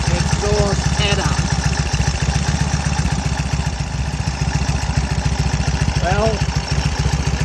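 A 1934 Indian Standard Scout motorcycle engine idling up close, a steady, loud, even rhythmic chugging throughout, with someone briefly speaking over it.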